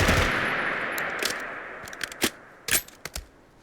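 The FSS Hurricane gun firing in Fallout 4, with a sustained rattling burst that fades out, then several sharp, separate shots in quick succession toward the end.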